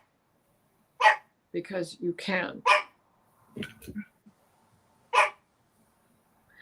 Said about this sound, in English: And Grizzly was agreeing with me, if you could hear him barking